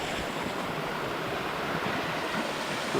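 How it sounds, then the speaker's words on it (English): A small waterfall on a wilderness lake rushes in a steady, close, full-bodied wash of water with no pauses and no voices. "Beautiful little waterfall here."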